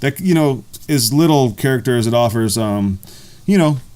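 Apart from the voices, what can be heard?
No everyday noise stands out behind the speech.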